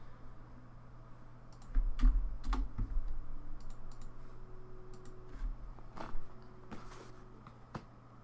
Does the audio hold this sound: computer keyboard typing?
yes